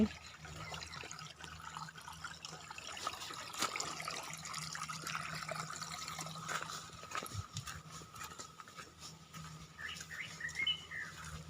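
A forest stream flows steadily as a continuous wash of water, with birds chirping and calling faintly around it along a rural walking path.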